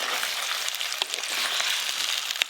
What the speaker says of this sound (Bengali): প্রথমে মাংসটা খুব ভালো করে ভেজে নিয়েছি